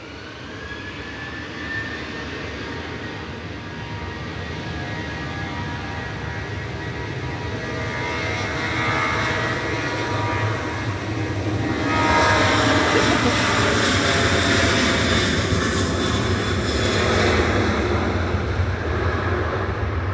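Jet aircraft departing Manchester Airport during a busy wave of takeoffs, a broad sustained engine roar that swells louder midway and holds steady, with a faint voice at times.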